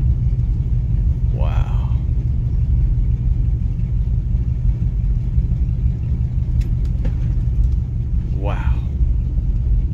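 An Oldsmobile with a new 727 transmission runs and drives with a loud, steady low engine rumble throughout, and a man briefly exclaims twice over it.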